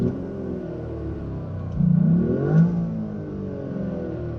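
Toyota GR Yaris engine revving, a rumbling idle that climbs into two quick throttle blips with rising pitch before settling back, heard from a moderate distance.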